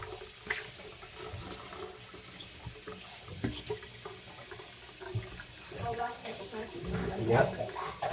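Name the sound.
water running from a sink tap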